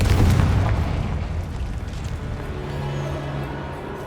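A Confringo explosive spell goes off in Hogwarts Legacy, one loud deep boom that rumbles and fades away across a few seconds, alone.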